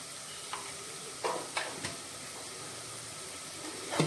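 Vegetables tossed in a pan with store-bought veg biryani masala, red chilli and turmeric, a low background sizzle broken by a few sharp spatula scrapes and clinks.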